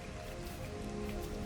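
Steady rain patters evenly in the video game Lego Fortnite, a soft continuous hiss of drops with a faint tonal hum beneath and no voices.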